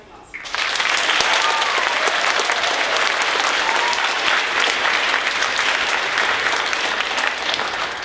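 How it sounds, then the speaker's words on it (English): A school audience at a middle school space project event bursts into loud, sustained applause, a dense wash of many hands clapping that starts abruptly and holds steady throughout, with voices mixed in. "One more round of applause."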